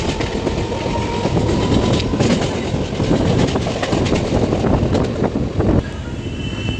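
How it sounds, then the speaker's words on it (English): Local commuter train ride from Ghatkopar, heard from inside the carriage: steady loud rumble with rhythmic clickety-clack of wheels over rail joints throughout, no talking. "I'm going to college by local train"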